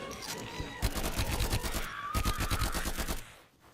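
Rapid automatic gunfire from an open world shooter video game, a loud dense burst of repeated shots running nearly continuously for a few seconds before cutting off, with no talking over it.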